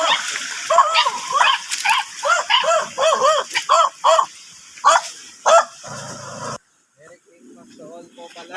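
Several dogs bark in quick repeated bursts nearby, with some yelping, before the barking drops off into quieter background noise.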